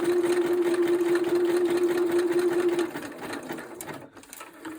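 A sewing machine runs a straight stitch during a fabric doodling craft session, whirring steadily and close for about three seconds before it stops, leaving faint handling noise.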